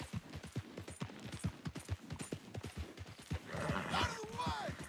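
Horse hooves pound in a steady galloping rhythm in Red Dead Redemption 2, riding near Blackwater, loud and close. Someone talks over the first half, and a brighter burst of game sound joins near the end.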